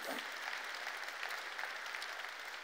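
A church congregation claps in a steady, fairly quiet round of applause that continues evenly throughout, with no voices over it.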